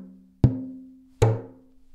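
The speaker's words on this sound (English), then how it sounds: "And if I also add my thumb on the other side, pinching the skin," A frame drum struck twice while the skin is pinched between fingers and thumb, giving a dampened, boxy thump with a short ringing tone after each hit, close and alone.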